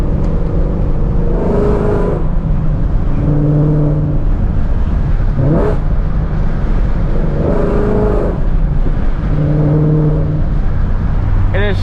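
Ford Mustang engine and exhaust under way, a continuous loud drone with repeated rises and falls in pitch as it revs through gears, echoing off passing cars.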